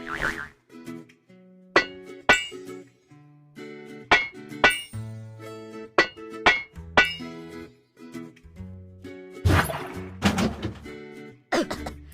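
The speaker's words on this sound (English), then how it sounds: "Use a hammer to break the locks." Repeated metallic clanks and bright bonks ring out in an irregular series as a video game hammer breaks locks, each strike followed by a short tonal ring, like cartoonish game sound effects.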